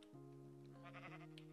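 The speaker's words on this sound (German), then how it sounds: "Ich habe ein Schaf." A single sheep bleats in the Minecraft video game, one quiet, two-toned wavering call lasting about a second and a half over a faint background.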